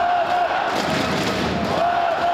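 Hockey fans cheering in a roaring crowd at Lada-Arena during a KHL season opener, a dense continuous swell of voices with a rising whistle-like tone, loud and steady throughout.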